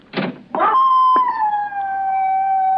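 A dog howls in an old radio drama, beginning with a couple of short bursts before one long, falling, mournful wail that carries loud and clear on its own.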